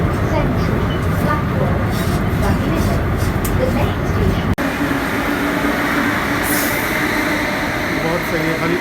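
Kolkata metro train running underground, a steady loud rumble and rolling rail noise filling the whole stretch, with a brief jolt midway and talk in the background.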